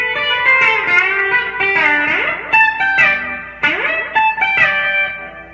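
B-bender electric guitar playing a country twang lick, bright picked notes with bent notes swooping upward, repeated in two similar phrases, close and clear with no talking.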